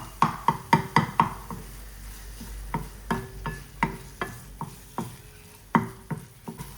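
Paneer and masala being stirred in a pan for paneer bhurji, with a series of irregular spatula scrapes and taps against the pan over a faint sizzle, close and clear with no talking.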